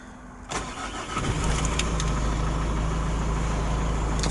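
A Mazda 6 Estate engine cranks briefly and fires on the first try, then settles into a steady, even idle, close and clear with no voices over it.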